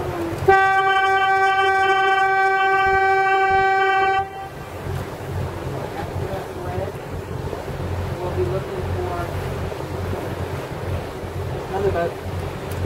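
A loud, steady boat horn blast sounds in fog for about four seconds, then cuts off, leaving engine rumble and water noise with faint voices.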